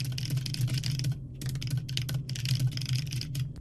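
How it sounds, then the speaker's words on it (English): Steady, fast typing on a computer keyboard fills the recording, with dense overlapping key taps, two short pauses, and no talking. "I'm going to type file has been changed by another developer."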